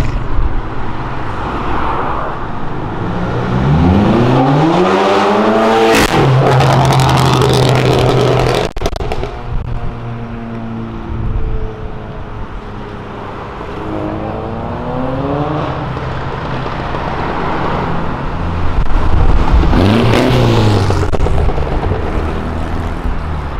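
VW Golf GTI engine revving hard and bouncing off the rev limiter with crackling pops, rising and falling in repeated loud surges over several bursts.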